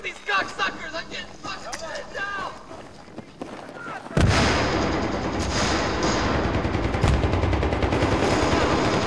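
In Battlefield 3 combat on the Donya Fortress map, shouted voices and scattered shots give way to a sudden heavy explosion, then sustained loud gunfire and blasts rumbling continuously with faint voices underneath.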